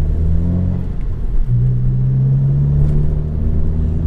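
A lowered car with a muffler delete rumbles at close range, its deep, loud exhaust drone holding steady and shifting pitch slightly midway as the engine note changes.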